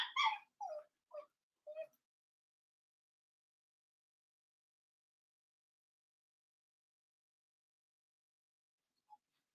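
A jealous dog whimpers and yips in a quiet room, four short high whines in quick succession, close and fairly clear, then near silence with one faint blip later.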